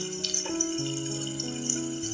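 About a glass of water pours steadily into a cooking pot of mince, a continuous splashing rush with faint metallic ringing, no voices.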